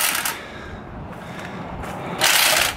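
A power tool tightens the wheel nuts on a Toyota fitted with new wheels and tires. Brief mechanical whirring and ratcheting bursts come at the start and end, with a quieter stretch of background noise between them and no talk.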